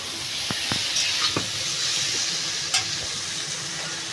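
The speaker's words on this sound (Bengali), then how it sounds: "তরকারিটা কষানো হয়ে গেছে" Prawn and yam curry sautéing in a pan gives a constant soft sizzle and hiss, with a few sharp clicks and scrapes of stirring on top.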